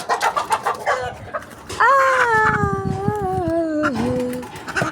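A brooding hen clucks in short agitated bursts, then lets out a long drawn, wavering squawk, with some flapping and scuffling close by.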